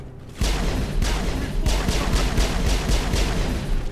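Rapid sustained gunfire in the video game Mass Effect, a dense burst of shots starting abruptly and continuing loud and close throughout.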